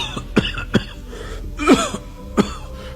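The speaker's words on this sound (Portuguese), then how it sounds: "a tosse insistente da minha mãe" A mother's persistent cough: four sharp bursts spaced through the moment, with one heavier, rougher double hack near the middle, close and fairly loud with no talking.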